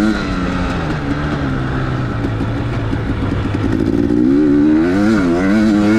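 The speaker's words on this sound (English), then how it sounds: "I just love listening to this two-stroke sing" A KTM two-stroke motorcycle engine races through a dirt and straw outdoor track, buzzing steadily near and loud for several seconds before revving up and down in wavering surges toward the end.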